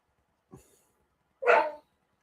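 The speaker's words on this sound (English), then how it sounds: "except for my dog barking" A dog barks twice, nearby and fairly faint: first a short soft yip, then after a gap of about a second a louder, fuller bark, with silence around both.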